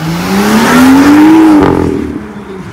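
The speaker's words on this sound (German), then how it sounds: "Jetzt fährt Martin Rinzer mit dem Gajano und Thorsten Quali und Porsche nach." A sports car pulls away at a supercar event, its engine rising in a loud, near rev that climbs steadily then drops off as it moves on, with no talk over it.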